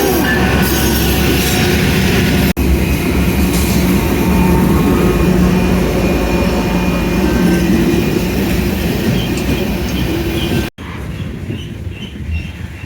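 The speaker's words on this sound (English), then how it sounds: "And the train's coming." A train rolls past close by, wheels grinding and squealing on the rails in a loud, steady roar that drops off sharply near the end, heard near the Dunsmuir area of Castle Crag.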